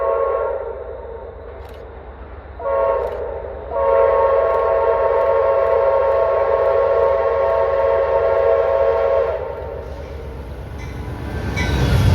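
An Amtrak P42 locomotive sounds a long, loud, sustained horn blast after two short toots, with rumbling train noise underneath.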